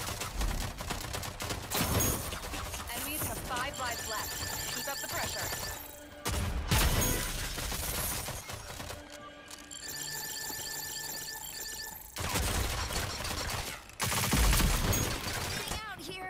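Gunfire in the PS5 shooter Rogue Company comes in loud bursts of rapid shots separated by quieter gaps of game sounds, with a voice speaking over the action.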